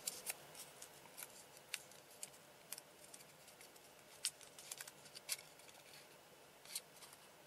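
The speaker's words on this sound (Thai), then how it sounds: "เราจะลองตัดให้ดูนะครับ จะได้เห็นภาพมากขึ้น" Scissors cut out a paper dice model, a run of quick crisp snips and rustles of paper, close but quiet, with no talking.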